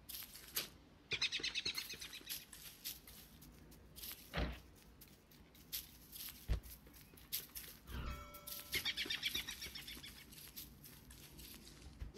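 Small birds chirp and tweet in the Don't Starve Together video game, with bursts of twittering calls early and again later over a busy game soundscape of thumps and other effects.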